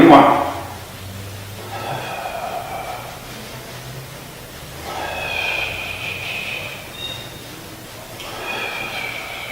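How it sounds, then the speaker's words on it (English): Slow, deep breaths in and out during a beginner mat Pilates session: airy, hissing swells of breath rise and fall at a relaxed pace, close to the microphone, with a voice occasionally in between. "Nice deep breath in. Deep breath out."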